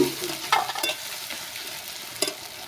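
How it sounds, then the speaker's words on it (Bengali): Cumin and dried red chilli paste with ginger paste frying in a pan for a meat dish, a steady close sizzle with a few sharp scraping stirs of the spoon against the pan. "দিয়ে আবার ভেজে নেব ভালো করে"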